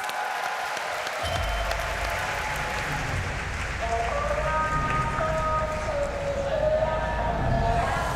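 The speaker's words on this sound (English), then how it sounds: "Please welcome South Korea! Big up applause" A large crowd applauds at a stadium closing ceremony, a broad, steady roar of clapping and cheering joined by rising musical tones partway through.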